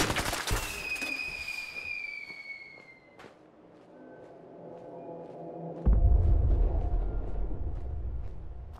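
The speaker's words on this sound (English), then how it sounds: "all guns feel unique and sound unique, especially the laser rifle and futuristic weapons" Futuristic weapon sounds from the Fallout 4 video game: bright whistling tones that fall away, sharp zaps, then a loud low roaring blast that holds to the end, with no talking.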